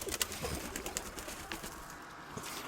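A young pigeon with an injured wing gives faint, soft coos indoors, scattered brief sounds over quiet background hiss.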